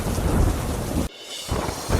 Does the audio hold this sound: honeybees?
no